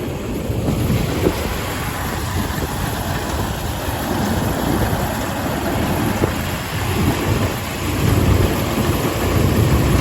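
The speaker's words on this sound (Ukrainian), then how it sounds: "тракторець мій вже завівся" An idling tractor engine gives a steady low rumble throughout, continuous and fairly loud, during a rainy soybean harvest, with wind buffeting the microphone on top.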